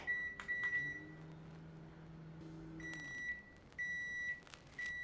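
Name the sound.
microwave oven running to cook fasting dahi vada batter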